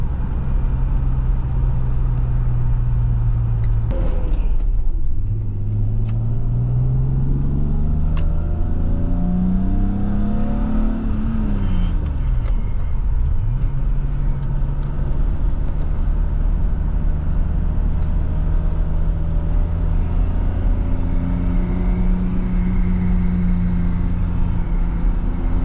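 Inside a 1993 BMW M5 E34 on a test drive, the engine rumbles loudly, revving up through the gears with rising pitch and brief drops at each shift, continuous throughout.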